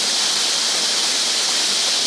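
Steady, dense rush of a waterfall, a constant broadband hiss of falling water with no breaks or voices, close and fairly loud throughout.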